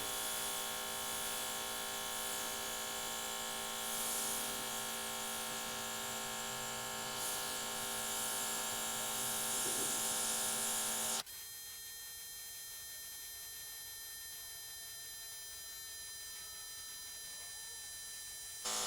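A battery-powered airbrush sprays black paint onto a skull, giving a steady close hiss and motor buzz that drops to a quieter, thinner tone partway through and holds there.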